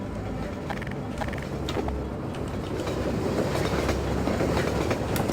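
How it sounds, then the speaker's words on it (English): A train moves through Half-Life 2 with a steady rumbling roll and rhythmic clicking over the rails, continuous and fairly close for several seconds, with no talk over it. "Ah, right, the train. Use that to get across if memory serves."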